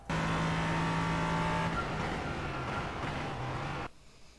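An LMP3 race car laps Sebring in the iRacing sim, its engine droning loud and steady with pitch shifts as it works through the gears, then cutting off abruptly near the end.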